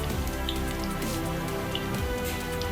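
Chopped shallots frying in sesame oil for a lentil-ball kuzhambu, giving a constant close sizzle full of fine crackles and small pops.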